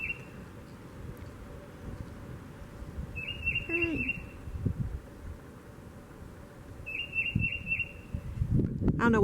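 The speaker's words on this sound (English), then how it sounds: "I don't know what kind of bird that is." An unidentified bird sings outdoors in spring among blooming dogwoods, giving short repeated trilling phrases at a distance over steady background rumble, with brief talk nearby.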